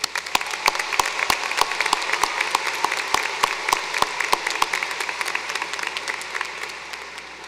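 A graduating class at a spring commencement ceremony gets a crowd's applause: many hands clapping steadily at a moderate distance, with sharp individual claps standing out over the dense patter and slowly fading toward the end.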